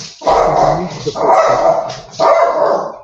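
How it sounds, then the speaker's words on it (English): Big dog barking indoors, three loud close barks in a row with short gaps, with no talk over them. "my dog's going nuts"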